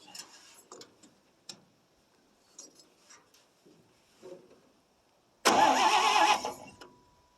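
A 1957 International S120 4x4 pickup that has sat for four years cranks and fires, roaring loudly at close range for about a second before settling, after a stretch of quiet clicks and small handling noises.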